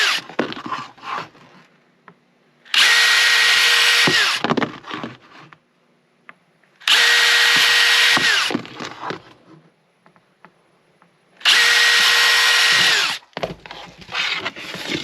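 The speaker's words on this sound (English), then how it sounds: "So let me drill these out." A power drill bores holes in wood in three loud, sustained whirring bursts of about a second and a half each, separated by quieter pauses filled with handling clatter.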